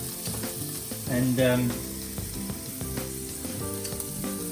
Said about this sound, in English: the pancetta is cooking beautifully